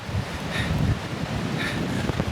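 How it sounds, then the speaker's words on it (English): Wind buffeting the microphone on a forested ridge above a small canyon at Minister Creek, Pennsylvania: a loud, steady rushing roar with gusty rumbles, no speech. "Sorry about that wind"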